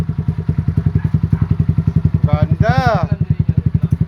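A trail motorcycle's engine idles with a steady rapid thumping pulse, then is revved up twice in rising and falling surges before settling back to idle; someone speaks briefly over the engine.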